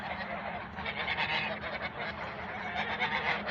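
A flock of farmyard geese honks continuously and loudly, many overlapping nasal calls close by with no pause, on a rural homestead in autumn.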